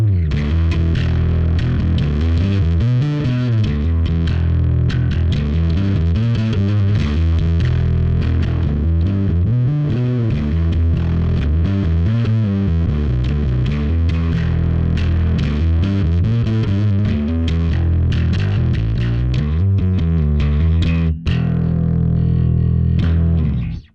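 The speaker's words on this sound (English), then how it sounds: "You can hear it goes from pretty clean to really heavily overdriven." An electric bass runs through a Fender Pour Over envelope filter pedal's distortion circuit, playing a continuous groovy line that grows from fairly clean to heavily overdriven, loud and close with no talking.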